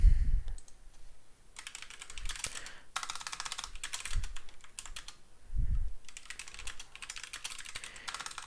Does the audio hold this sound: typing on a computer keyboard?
yes